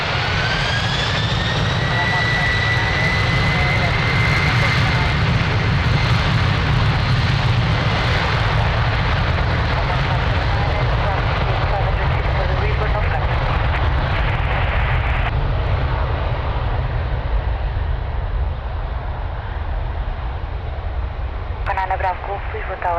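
A Delta Boeing 767 heavy jet takes off from runway 02 at Lisbon Airport, a loud, continuous engine roar with a rising whine, while radio chatter runs alongside.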